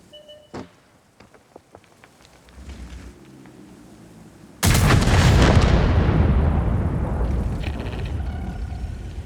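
Heavy artillery shell blast in the World of Tanks video game, a sudden loud boom that rolls into a long, roaring rumble, preceded by sparse faint clicks and a low engine drone.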